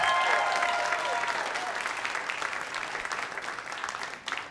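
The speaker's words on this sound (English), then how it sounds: "give them a round of applause" An audience at a stand-up comedy special applauds, a dense steady wash of clapping that stays strong and slowly fades toward the end.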